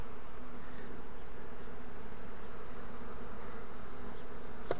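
Dense, continuous buzzing of a honeybee swarm close around a hive during a queen-catching session, a steady insect drone filling the whole span with no talking.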